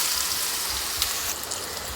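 Chopped ridge gourd goes into a hot mustard-cumin tempering with green chilli and asafoetida for a Kathiyawadi curry, giving a steady soft hiss that swells briefly as the pieces land.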